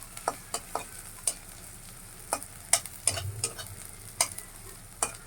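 Mustard and brain mash cooking in a pan, frying quietly while a spatula stirs it in sharp, irregular scrapes and taps over a soft sizzle, close up and with no voices.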